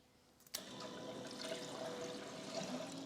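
Steady bubbling and gurgling of coolant circulating through an electric water pump on a Boss Hoss motorcycle, starting abruptly after a brief click as the ignition turns, with a continuous watery churn throughout.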